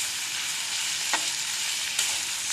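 Potatoes and onion fry in mustard oil while being stirred, a steady hiss of sizzling broken by a couple of brief scraping clicks from the spoon, close and moderately quiet, with no talking.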